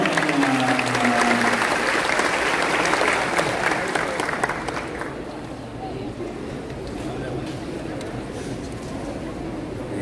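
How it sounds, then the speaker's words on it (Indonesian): An audience at a public forum in Yogyakarta bursts into loud applause mixed with cheers, then the clapping thins and fades to a lower, scattered patter as a voice speaks over the crowd. "Tepuk tangan dulu dong."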